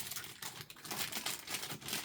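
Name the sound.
opening plastic packaging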